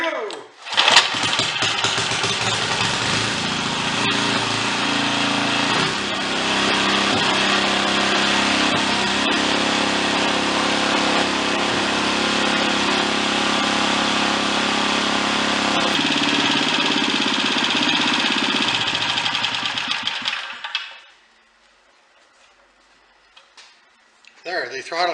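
A Tecumseh engine on a Craftsman 3.5 HP tiller runs loud and steady at close range for about twenty seconds, then cuts off abruptly and leaves near silence.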